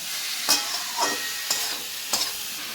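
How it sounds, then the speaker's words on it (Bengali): Ash gourd pieces fry in a pan while a spoon stirs them in four distinct scraping strokes over a soft, steady sizzle, close and alone. "চাল কুমড়োটা আমি দিয়ে একটু ভালো করে একটু নাড়ানাড়ি করি"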